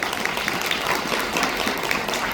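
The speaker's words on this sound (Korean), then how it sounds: "박수 한번 쳐주시면 안 될까요?" Audience applause at a Korean blockchain technology presentation in Daejeon, a dense, steady wash of many hands clapping at even loudness throughout, with no speech over it.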